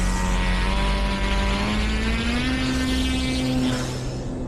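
Electric motor of a Volantex Phoenix 2400 RC glider spinning a 13x8 propeller, a loud, steady, close whine with a slight rise in pitch midway and no talk over it.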